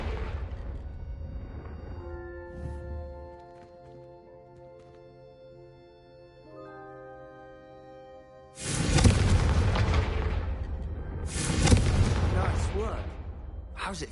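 Fiery Confringo spell blasts in Hogwarts Legacy, first a quiet stretch of sustained musical tones, then two loud, broad explosive bursts close together near the end, with talk in the scene.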